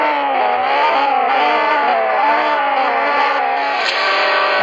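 A racing car engine in the video game CSR Racing 2 revs hard and steadily, its pitch rising and falling through gear changes in a continuous loud synthetic drone.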